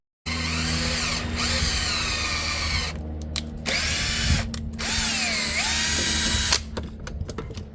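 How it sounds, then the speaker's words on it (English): A power drill bores out holes in the plastic of an RV door actuator, with loud sustained whirring in several bursts that change pitch under load and stop briefly between them. "So I'm going to drill those out too."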